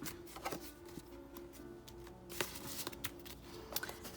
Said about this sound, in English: So I'm going to put 50 inside of the 50 envelope.